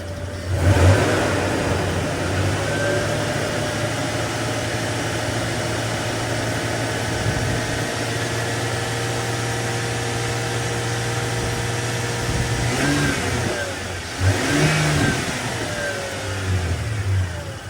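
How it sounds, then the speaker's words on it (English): A Toyota 4Runner engine runs steadily after a cold start, a loud, constant low rumble and hum with a couple of slight swells in revs, heard close and alone without talk. "That 4Runner is such a ridiculously good engine."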